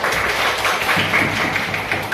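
A classroom of students gives a dense burst of clapping and tapping for a classmate, loud and sustained for a couple of seconds, with faint voices mixed in.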